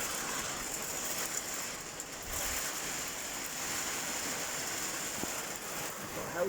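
Heavy rain on an allotment in June, heard from inside a shed: a continuous broad rushing wash with gentle swells, loud and steady, with no talking.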